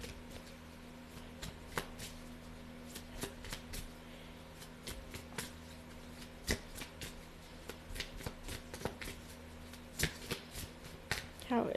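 Tarot cards from the Sadhana Tarot deck shuffled in a steady run of crisp riffles and slaps, close and moderately loud, with brief talk at the end.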